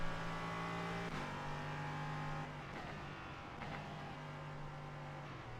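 LMP3 race cars in a racing game at Barber Motorsport Park, a sustained engine drone with several upshifts and downshifts as the car accelerates and brakes, steady and close.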